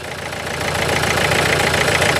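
A Renault Duster that is burning engine oil idles with heavy vibration and a severe misfire, a close, steady mechanical drone with an uneven knocking pulse that swells slightly louder partway through.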